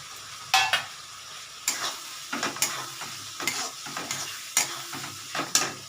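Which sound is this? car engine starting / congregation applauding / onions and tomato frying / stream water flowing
onions and tomato frying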